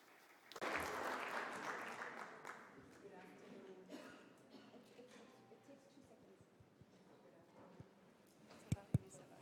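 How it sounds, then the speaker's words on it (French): An audience at a conference session breaks into applause, loud at first and then slowly thinning into scattered claps, with a few sharp knocks near the end. "Je demande donc qu'on applaudisse Madame Vejralstein."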